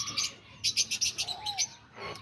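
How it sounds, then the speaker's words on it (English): Diamond doves in a breeding aviary chirp in quick bursts of short, bright calls with a softer coo between, fairly close and with no talking. "But yeah, that's the diamond doves"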